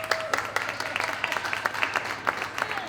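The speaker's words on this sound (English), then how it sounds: "Can't believe you're applauding that," Audience applause after a Shakespeare recitation at a talk on immersive performance, scattered uneven claps heard closely for a few seconds with some voice sounds mixed in.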